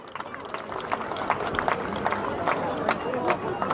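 Steady applause from an audience at a village folk music concert, dense clapping with crowd noise that swells slightly and holds throughout.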